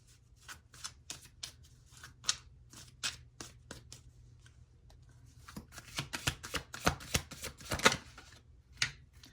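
Tarot cards are shuffled close up in quick irregular bursts of crisp riffling and slapping, sparse at first and denser toward the end, with no talking.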